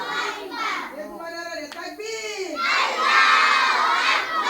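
Schoolchildren at a charity day cheer and shout loudly, with clapping rising into a full, close roar of excited young voices; some chanting and child speech mix in under the noise.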